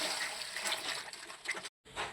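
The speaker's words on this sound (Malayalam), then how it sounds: "പാകത്തിനുള്ള വെള്ളം ഒഴിച്ചു കൊടുക്കാം" Water is poured into a Kerala roasted-coconut chicken curry, a close, continuous splashing rush. It breaks off abruptly near the end, then resumes briefly.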